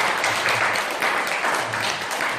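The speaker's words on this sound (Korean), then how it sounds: "두 분 위해서 우리 박수 한번 쳐주시기 바랍니다" Audience applause for two honoured guests at a Sunday Buddhist dharma talk, a steady dense wash of clapping across the whole stretch, fairly loud and even with slight swells, no talk over it.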